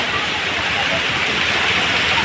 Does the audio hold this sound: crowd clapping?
no